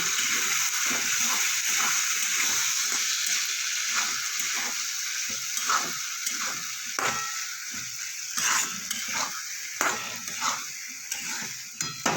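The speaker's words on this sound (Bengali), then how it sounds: "এবার আলুটা দিয়ে আর কিছুক্ষণ কষিয়ে নেব।" Potatoes stirred and fried with spices in a pan while making raw papaya pakora: a steady close sizzle with repeated scraping stirs throughout, with no talk.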